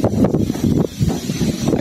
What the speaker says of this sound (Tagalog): Grabing hangin mga idol, ang lakas.